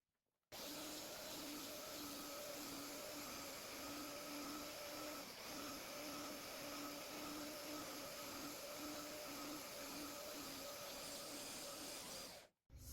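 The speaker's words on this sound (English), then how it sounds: "now I'm going to use my portable belt sander to flatten the top and the bottom" A portable belt sander flattens the top and bottom of a 100-year-old oak table top, giving a steady, loud whirring drone with a rough, hissing grind that runs unbroken for about twelve seconds, alone.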